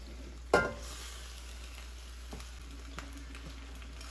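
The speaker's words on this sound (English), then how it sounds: "add the cooked pasta into the sauce" Cooked pasta is stirred into a thick cheese sauce for mac 'n cheese, a soft wet squelch and scrape of the spoon near the start, then faint occasional stirring sounds.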